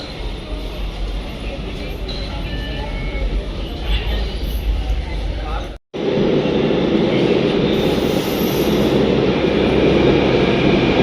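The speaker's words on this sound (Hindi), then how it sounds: "मैं अभी पीरागढ़ी मेट्रो स्टेशन पे वेट कर रही हूँ" Steady rumble of a metro train at Peeragarhi metro station platform in Delhi, loud and continuous, with a brief dropout midway and chatter in the background.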